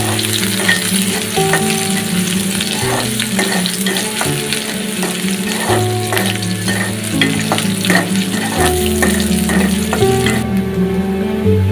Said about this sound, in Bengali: পেঁয়াজ, রসুন, আদা দিয়ে দিলাম। একটু লাল লাল করে ভেজে দিতে হবে।